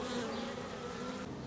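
Honeybees from a newly installed bee package buzz around the hive in a steady, dense drone, close and continuous, with no voices.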